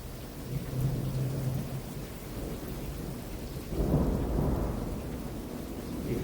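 Steady rain falls during a Georgia electrical storm while low thunder rolls and swells midway, a continuous wash of rainfall with a deep rumble building toward the end, no voices.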